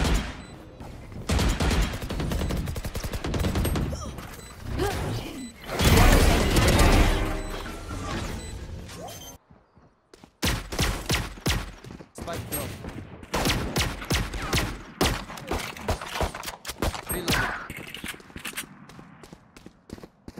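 Repeated sharp pistol cracks from the Classic sidearm in Valorant, shots fired in quick bursts with brief pauses, mixed with footsteps and other game effects while a player talks.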